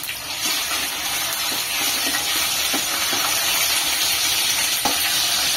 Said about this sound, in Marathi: त्याच्यानंतर आलं लसणाची पेस्ट घालणार आहे.